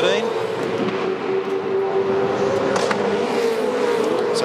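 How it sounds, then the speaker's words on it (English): A Supercars race car at the Sydney 500 street race rounds a left-hand corner, its engine roaring loudly with a sustained tone that shifts pitch, heard under a commentator's talk. "So now Jamie's heading into the left-hander at the final corner, 13"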